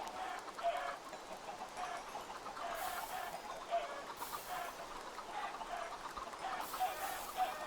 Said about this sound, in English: I'm just gonna kill the chickens.